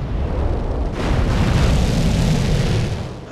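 Booming gunfire and explosions in GTA San Andreas gameplay, a dense continuous roar of blasts that swells louder after the first second and stays heavy and close throughout.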